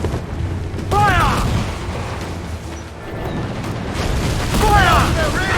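Ship cannons fire in Assassin's Creed IV Black Flag with deep booming blasts under a steady rumble of sea and battle noise, while crew voices shout over the action.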